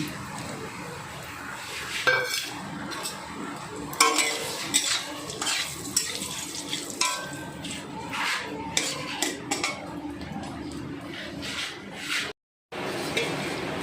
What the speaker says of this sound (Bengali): ওই মাছ ভাজার তেলে আমি তেজপাতা দুটো শুকনো লঙ্কা আর জিরে আর কালো জিরে ফোড়নে দিয়ে দিলাম